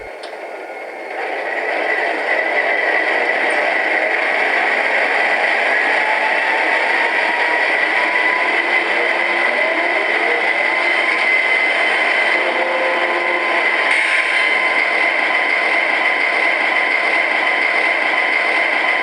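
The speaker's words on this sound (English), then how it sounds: "Here's the startup sequence on the 9815." An MTH Premier Line Canadian Pacific Holiday Train locomotive, number 9815, runs its Proto Sound 3.0 startup sequence: a steady, loud mechanical hum and whirring drone that holds constant throughout, with faint shifting tones underneath.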